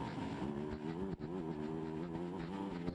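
Off-road motorcycle engines of the XC1 Pro class at a GNCC race start at Camp Coker, a steady droning roar with harmonic engine tones, loud and sustained, without talking.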